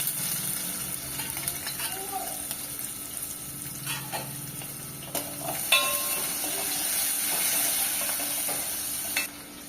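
Hot oil crackles and sizzles as sliced shallots are stirred in a pan, a steady close frying hiss with occasional clinks of a utensil.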